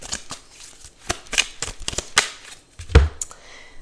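Tarot cards being shuffled and drawn, a quick series of close, crisp flicking and riffling snaps, with a short pause before a final card is slapped down.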